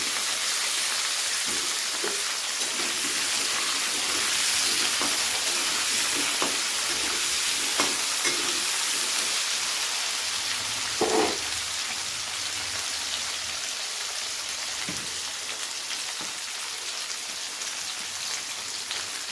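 Potatoes fry in a pan with drumstick pods, a steady crackling sizzle with scattered pops and a few louder stirring clatters, close up and without talking.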